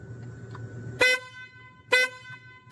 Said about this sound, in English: Oh, my horn.